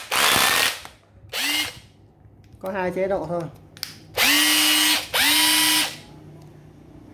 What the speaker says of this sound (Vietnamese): Bê tông Makita HR162, con này Made in Japan.